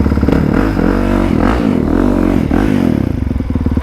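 A motorcycle rides off nearby, its engine loud and close with a rising, revving note that surges several times as it pulls away, heard alone without talk.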